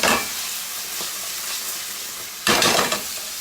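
Wine sauce cooks down to a thick, near-dry glaze in a hot pan on a sauté station, giving a steady close sizzle with a louder hissing burst near the end as the pan is stirred.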